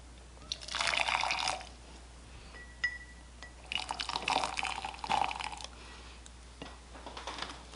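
Freshly boiled hot water from an electric kettle pouring into a cup in two or three short streams, close by, with a faint clink of glass between pours.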